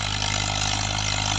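A Fiat 480 tractor engine labours under load while pulling a new Asia rotavator, giving a loud, steady, low droning hum with a constant tone through the whole short stretch.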